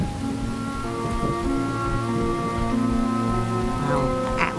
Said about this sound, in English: This storm is going to get worse. I think it just did.